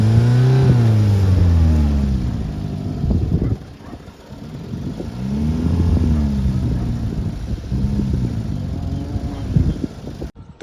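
A car stuck in mud or water on a university campus revs hard, the engine wailing up and down in long strained surges with brief drops between, loud and close with no talk.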